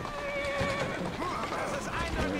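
A horse whinnies over steady clip-clopping hooves in Assassin's Creed Syndicate, with game music and a voice talking underneath.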